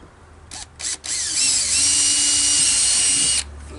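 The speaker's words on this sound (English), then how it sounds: "on this end, I drill right down through" A power drill whines in two brief bursts, then runs steadily for a couple of seconds as it bites down through plastic pipe and its cap, loud and close.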